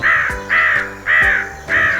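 A crow caws four times in a steady, evenly spaced rhythm, each harsh call loud and close, with no other sound around it.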